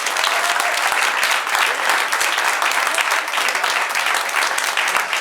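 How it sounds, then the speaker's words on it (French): An improv match audience claps hard and fast, a thick, continuous burst of applause that holds loud for several seconds with no talk over it. "elle applaudit bien fort, ils ont été excellents"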